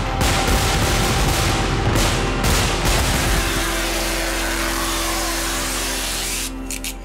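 Dense, continuous crackling bursts of fireworks going off close by, loud and rapid for several seconds before thinning slightly toward the end.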